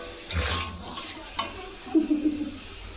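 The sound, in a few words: meat being cooked and stirred in a pan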